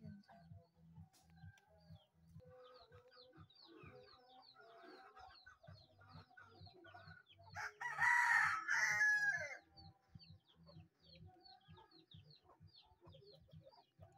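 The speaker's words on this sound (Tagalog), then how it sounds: "Manok yan siya." A chicken crows once loudly and close by, a clear drawn-out call in the middle, over a steady low pulsing hum and scattered soft clucks.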